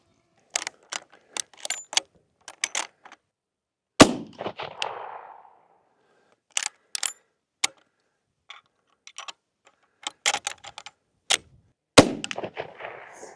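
A century-old Winchester 1894 lever-action rifle fired outdoors while hunting, with two sharp loud shots about eight seconds apart, each followed by a short decaying echo, between clicks and clatters of handling the lever and gear.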